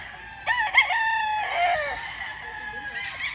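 Gamefowl bull stag roosters crow on a gamefarm, one close and loud with a full cock-a-doodle-doo and others answering nearby, with faint clucking underneath.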